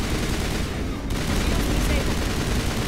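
Continuous rapid gunfire in Mass Effect, a loud, dense rattling that fills the whole moment without a break.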